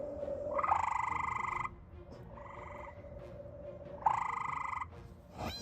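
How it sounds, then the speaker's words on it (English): Three drawn-out, trilling frog calls played back, each lasting about a second, separated by short gaps against a quiet background. "using the aid of frog sounds to try to lure him in"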